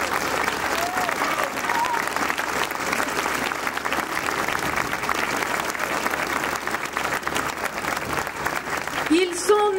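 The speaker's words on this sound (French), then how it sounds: "je vous demande des applaudissements qui sont autant d'encouragement et de remerciements" A crowd in the French parliament applauds during a session on enshrining abortion in the constitution, the clapping dense, continuous and loud throughout, with a voice briefly audible near the end.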